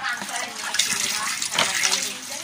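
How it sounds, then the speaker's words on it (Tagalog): Water leaks heavily from a weak pipe, pouring and splashing in a loud, close, continuous gush for a couple of seconds. "Ayan, ngayon malakas na tulo."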